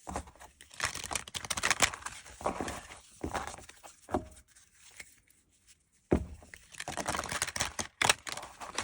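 Tarot cards are shuffled close up, with crisp riffling and soft papery rustles in bursts, a short quiet pause, then more shuffling.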